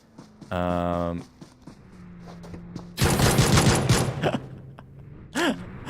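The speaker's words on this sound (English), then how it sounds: "So the shots from the M16 is what really killed him." An M16 rifle fires in PUBG Mobile during an esports match: a sharp, rapid burst of shots erupts midway and rattles on for about a second, set among softer game noises and a short tonal sound early on.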